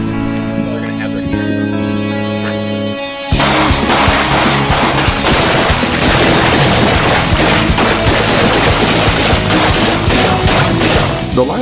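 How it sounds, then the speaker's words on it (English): Pistols fire at a live fire range, a dense run of sharp, loud cracks that overlap into rapid volleys after a brief spell of humming tones and talk, continuing without letup to the end. "until they can get to the range and actually put real bullets down the range"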